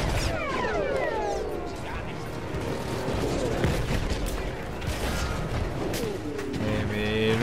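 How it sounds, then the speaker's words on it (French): Cannon fire in the World War I shooter Battlefield 1 booms among dense battlefield noise, with repeated blasts, whistling shells and crashes layered together, loud and continuous, with some voices mixed in. "il est où le canon qui me tire dessus là ?"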